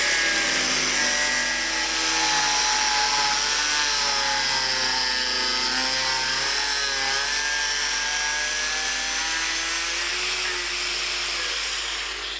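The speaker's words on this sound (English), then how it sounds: "I've simply cut 4 flat sides with the angle grinder and then finished them off with a file" Angle grinder with a fine cutting disc cutting the point of a hide pole, a loud, close, sustained whine that rises and falls in pitch as the disc bites, with no talk.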